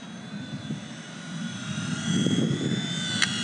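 A small V911 Pro radio-controlled model helicopter flies nearby with a steady whirring rotor and motor drone that swells slightly louder toward the end, with no talking.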